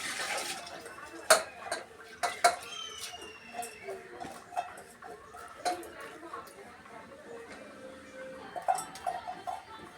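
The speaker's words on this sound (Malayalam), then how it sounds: "കഴുകി വെച്ചിരിക്കുന്ന ഈ പരിപ്പ് ഈ വെള്ളത്തോട് കൂടി നമുക്ക് പ്രഷർ കുക്കറിലോട്ട് ഇടാം" Washed lentils and their soaking water tip into a pressure cooker in a home kitchen, with a wet pour amid sharp metallic clinks and knocks of pot and utensils, spaced irregularly throughout.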